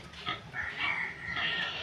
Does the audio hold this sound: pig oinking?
yes